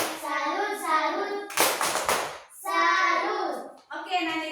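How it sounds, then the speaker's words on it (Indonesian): Fourth-grade elementary schoolchildren in an Indonesian classroom chant together in rhythmic, sing-song voices. A short, dense burst of group hand-clapping falls in the middle, with chanting before and after it. "Oke, tepuk salut dulu untuk Nane."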